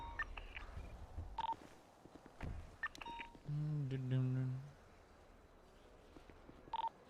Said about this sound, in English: The slower he gets, the louder the beep too.